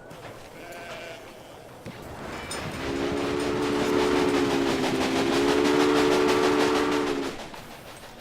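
A steam train in the video game Assassin's Creed: Syndicate rumbles along with a rhythmic clatter, then a steady two-tone horn blows for several seconds before fading.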